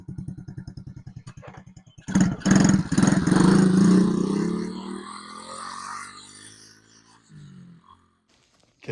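A four-wheeler's engine cranks with rhythmic starter chugging, then fires and revs loudly before settling into a fading idle as it warms up, with a brief clunk near the end.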